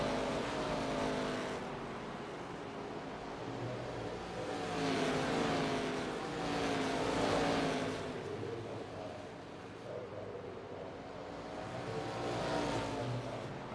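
Race cars circle Five Flags Speedway in a racing video game, a continuous engine drone swelling and fading as cars pass, steady and moderately loud throughout.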